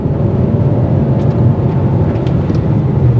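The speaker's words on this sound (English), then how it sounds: "It's, you know, as expected, a kind of boring sounding engine." A Skoda Octavia vRS turbo engine pulls hard under acceleration, a loud, steady, smooth drone with no spikes, heard from inside the cabin and alone without talk.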